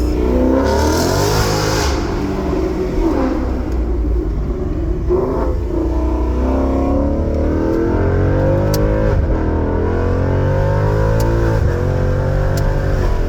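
Ford Mustang with modified exhaust, engine revving and accelerating continuously, loud and close with deep rumble, rising and falling through gear shifts, with a few sharp exhaust pops near the end.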